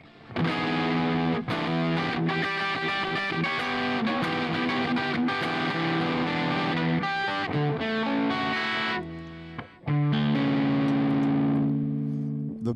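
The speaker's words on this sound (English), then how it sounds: "It sounds like a fuzz pedal." Electric guitar played through an HX Stomp Fullerton amp model with the drive turned up, giving a thick, fuzzy distorted tone; sustained chords and riffs ring out loudly, pausing briefly before resuming.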